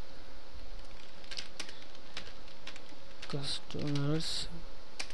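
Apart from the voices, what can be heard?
typing on computer keyboard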